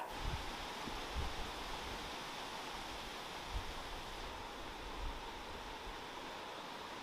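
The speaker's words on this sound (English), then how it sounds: "it's very windy outside. The wind is like really kicking up." Steady, dense roar of strong wind blowing outdoors, broad and unbroken, with occasional low gusty thumps against the microphone.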